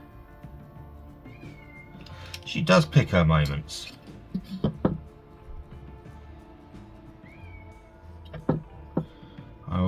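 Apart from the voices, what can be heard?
cat meowing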